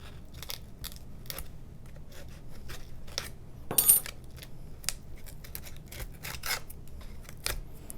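Cutting material for a model airplane battery box: a series of small, close, crisp snips and clicks spaced irregularly, with one slightly louder crunchy cut midway, in a quiet room.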